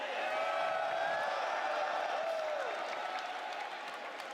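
A crowd at an EVO 2025 fighting-game tournament watch party applauds and cheers in a steady, dense roar that holds for several seconds and eases slightly toward the end.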